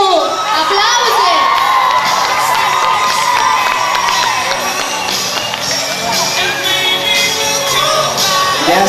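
Lively crowd of students shouting, whooping and cheering at a freshman ball at a technical college in Focșani, loud and sustained with high excited voices layered throughout.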